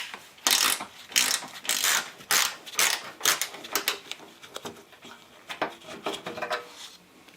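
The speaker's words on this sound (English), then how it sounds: "the ratcheting box wrench actually worked better" A ratcheting box wrench works a bolt loose in the door jamb of a 2004 Infiniti G35X, its metallic clicking arriving in quick, repeated bursts of varying length, close and fairly loud, with no talking.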